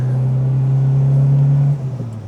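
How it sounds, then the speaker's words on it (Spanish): A Seat 850 Sport Coupé engine, the 127's motor, drones steadily and loud while driving on a twisty road. A strong, even hum holds for most of the moment, then eases and wavers near the end as the revs drop. "El motor responde muy bien."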